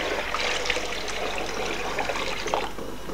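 Water pours steadily into a container to lift the float of a water level float switch, a continuous splashing trickle close by with no talk.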